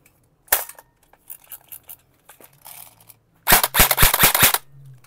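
An E&C airsoft rifle fitted with a suppressor fires a few single clicking shots and small handling noises, then a loud rapid full-auto burst of about seven shots near the end.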